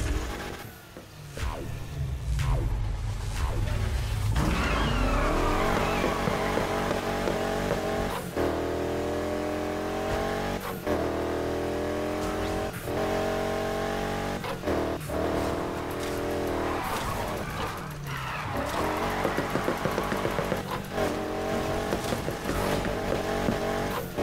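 Super Roadrunner car driven in Need for Speed Heat, its engine droning loud and close, revving up through gear changes with steady rising and falling pitch and no voices.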